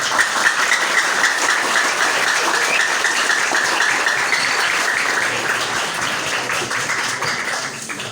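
Steady crowd applause fills the hall at an alumni social charity gathering, honoring the chairwoman; dense, continuous clapping stays loud throughout without a break.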